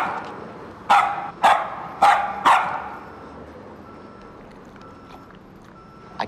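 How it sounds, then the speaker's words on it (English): A small dog gives four sharp, loud barks in quick, evenly spaced succession, then falls quiet, leaving only faint room noise. "this little guy will bark his head off"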